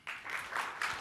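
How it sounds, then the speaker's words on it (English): Brief audience applause at an academic conference talk, a few swelling bursts of clapping in a hall, moderately faint and heard alone. "You may want to hold your applause until the end of the presentation."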